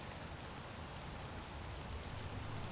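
Steady rain in Space Engineers, dense broadband hiss of falling drops filling the whole stretch at an even, fairly loud level with no pauses.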